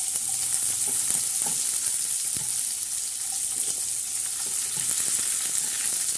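Onion stir-fried in a pan, a constant close, bright sizzle with scattered light scraping and ticking of a spatula throughout.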